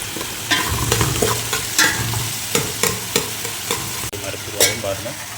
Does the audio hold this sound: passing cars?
no